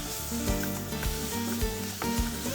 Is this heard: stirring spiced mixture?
yes